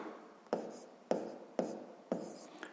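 A pen or pencil writes numbers on paper in a quiet room, producing four distinct tapping strokes at an even pace, each followed by a soft scratching trail, with no speech.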